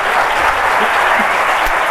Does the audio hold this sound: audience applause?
yes